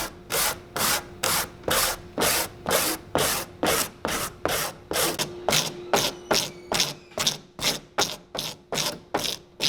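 A cloth soaked in acetone is scrubbed back and forth over a vintage Red Wing Irish Setter boot sole, giving loud, close, rhythmic rubbing strokes in a steady, even pattern.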